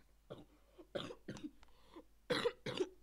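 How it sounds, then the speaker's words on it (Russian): A sick man coughs repeatedly, about six short, harsh bursts in uneven clusters, fairly close and moderately loud, with quiet gaps between them and no talk. "Приболел чуть-чуть, буду так иногда кашлять"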